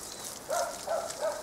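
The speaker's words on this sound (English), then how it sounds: "Listen to that dog." A dog barks three times at a distance, faint short yaps spaced about evenly over steady background hiss outdoors near a kiwano melon vine.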